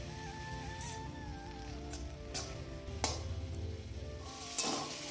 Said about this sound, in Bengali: জিরে আর তেজপাতা ফোড়ন দিয়ে আলু পটল দিয়ে দিলাম